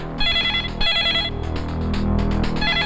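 A telephone rings in a tense Hindi drama scene, its electronic bell sounding in repeated bright bursts, close and fairly loud, with no talking over it.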